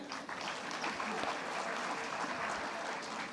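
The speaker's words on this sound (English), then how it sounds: "let's give a big round of applause to our previous panelists." An audience at an AI research symposium applauds the previous panel, a steady, moderately distant wash of many hands clapping that holds evenly throughout, with faint crowd murmur mixed in.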